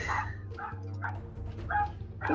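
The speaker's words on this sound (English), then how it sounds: "please stop barking" A dog barks in short bursts, about five yips and barks spaced roughly half a second apart, heard at moderate distance over a steady low hum.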